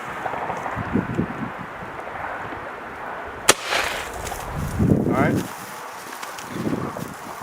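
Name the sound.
gunshot at a dove shooting clinic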